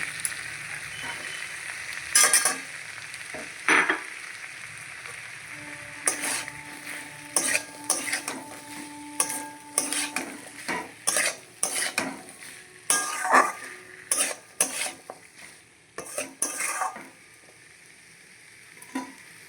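Chana dal fries in a pan for a vegetarian banana flower curry (mochar ghonto), with a soft sizzle underneath and repeated scraping, clattering stirs of a utensil against the pan, close and fairly loud in uneven bursts.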